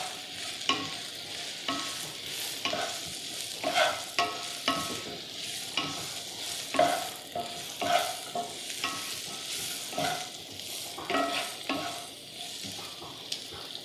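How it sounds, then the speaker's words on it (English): Onions sautéing in a pan for chicken couscous, stirred with a spatula: a steady sizzle under repeated scraping and clacking strokes, close and fairly loud, with no talking. "Give your onions a stir."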